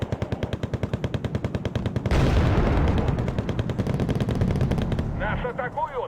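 Heavy rapid gunfire with booming artillery blasts in Wargame: Red Dragon, loud and dense, building into a sustained barrage from the middle onward with crackling impacts near the end.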